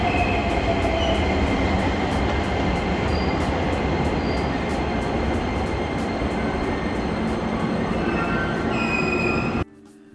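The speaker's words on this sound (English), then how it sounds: "The Asakusa Line is the last of the 4 Toei subway lines we'll be riding today." A Toei Asakusa Line subway train in Tokyo runs loud and steady, its wheels rumbling with a rhythmic clickety-clack and a faint squeal, until the roar cuts out abruptly near the end.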